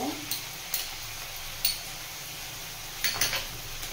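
A spoon stirs red chilli sauce and tomato sauce through chilli paneer in a hot pan, with a steady sizzle underneath and several sharp scraping clinks against the pan at irregular intervals, no talk.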